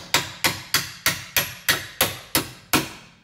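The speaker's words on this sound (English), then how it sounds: "Get your hammer and tap." A hammer taps a bolt loose from the rear lower control arm of a 2013 Nissan Altima, giving nine sharp, evenly spaced metallic strikes up close with no talking.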